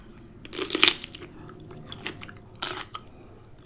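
Someone bites into and chews a crunchy raw cucumber up close, with a couple of crisp snapping bites and wet crunching chews between quieter pauses.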